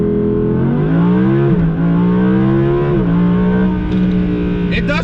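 An Audi R8 V10 Plus pulls hard under launch control, its engine note climbing steadily through the revs with brief dips at automatic upshifts, loud and continuous inside the car.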